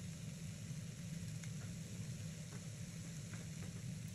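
Sliced capsicum fries in a pan, giving a soft, steady sizzle that runs quietly and evenly throughout, with a few faint stirring clicks and no voices.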